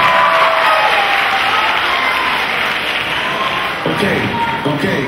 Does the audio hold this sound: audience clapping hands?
yes